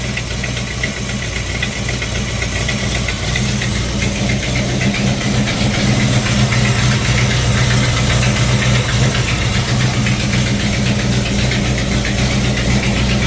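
A Ford Falcon XB GS hardtop engine idling steadily with a nasty, persistent knock tapping through its low rumble, close and loud throughout.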